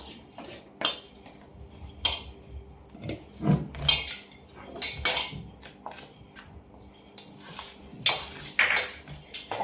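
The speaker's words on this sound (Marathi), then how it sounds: "गरम असल्यामुळे मी चम्मचने हलवते" A metal spoon clinks and scrapes against a bowl in irregular bursts, close up, with quiet gaps between the stirring strokes.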